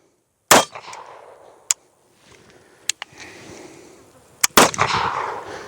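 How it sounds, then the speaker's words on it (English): A CZ-52 pistol fires old, unreliable military surplus ammunition with hang fires: two loud sharp shots roughly four seconds apart, separated by a few faint clicks and handling noises. "That was a hang fire and a half."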